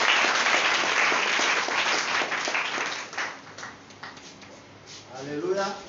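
A church congregation bursts into sustained loud applause, dense clapping that thins and fades over several seconds, with voices mixed into the crowd noise.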